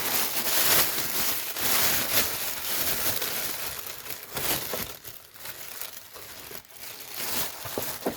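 Plastic packaging rustles and crinkles continuously as a large lot of 1960s and 1970s vintage football cards and stickers is unwrapped, steady close-up crumpling with occasional tearing sounds and no talk.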